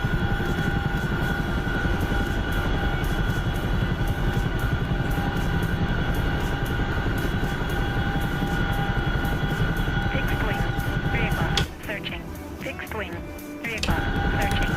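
A Chinook helicopter in a video game flies with a steady, loud rotor and engine drone that dips briefly near the end, then returns. Speech comes in over it.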